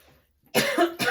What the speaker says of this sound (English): I was not coughing before this moment